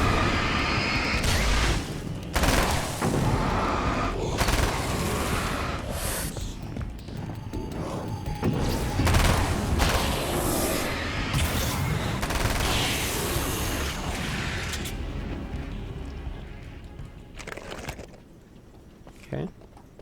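Gunfire in the video game Alan Wake: American Nightmare, a dense run of loud shots and booming impacts firing in bursts over game effects, fading toward the end.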